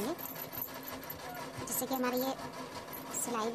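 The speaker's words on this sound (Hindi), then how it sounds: "यहाँ पे हम सिलाई को कंप्लीट कर लेंगे" A sewing machine stitches a blouse seam with a narrow margin of under half an inch, its motor whirring at a moderate level beneath someone talking throughout.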